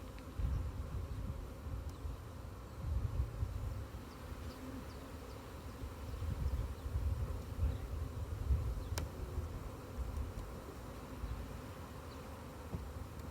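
Honeybees buzzing around an opened hive during a beekeeping field day, a soft, continuous drone that swells and fades as bees drift close, with faint rustles of frames and no talking.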